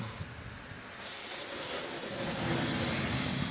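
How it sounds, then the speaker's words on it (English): An aerosol can of penetrating oil sprays onto a nut on a 2008 Toyota Corolla's front suspension in a loud, steady hiss that starts after a quiet second and continues without pause, close by. "So you spray them down real good."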